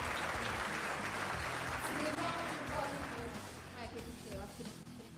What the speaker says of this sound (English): We need a round of applause here.